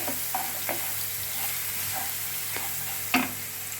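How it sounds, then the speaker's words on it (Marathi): Ginger garlic paste sizzles steadily in hot oil for mirchi vada, with a few soft scrapes of stirring over a constant frying hiss. "तेल तापले, त्याच्यामध्ये हे वाटलेलं आलं लसूण पेस्ट घालूया आपण."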